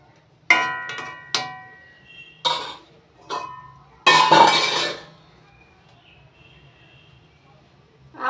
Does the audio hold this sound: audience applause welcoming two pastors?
no